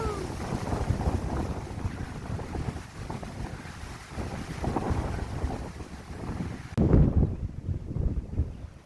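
Strong outdoor wind gusts of up to 40 mph buffet the microphone in rumbling gusts, roaring loudly throughout with brief lulls between blasts.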